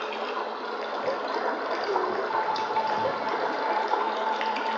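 A flowing stream gives a steady, soft rush of trickling water, continuous and even with no voices over it.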